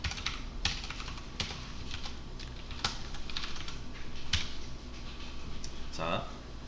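Typing on a computer keyboard during a web development class, a steady run of fairly close, crisp key clicks in irregular rhythm, with a few louder taps standing out.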